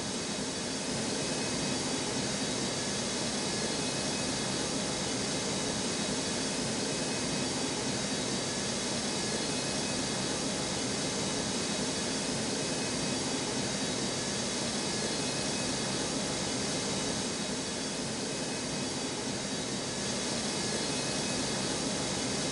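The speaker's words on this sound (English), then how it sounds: "Cleared for takeoff run." A jet aircraft takes off from a runway at Newark airport in snow, its engine roar a steady, broad, dense rush that holds for over twenty seconds without letup.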